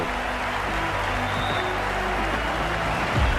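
Steady stadium crowd noise with applause in a Cricket 24 match between Mumbai Indians and Chennai Super Kings, a broad continuous roar that swells slightly near the end.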